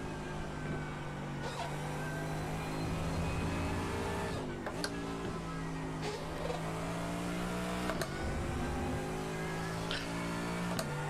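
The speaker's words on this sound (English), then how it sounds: "Keep the revs up in this car" A race car engine in iRacing holds a steady high drone that swells and dips through several sharp gear-change drops and revs, loud and continuous from start to finish.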